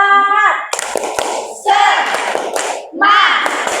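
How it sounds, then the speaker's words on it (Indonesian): A classroom of pupils performs a rhythmic clapping chant, sharp hand claps in quick patterned bursts alternating with loud group chanting voices, close and lively. "Kita akan tepuk semangat."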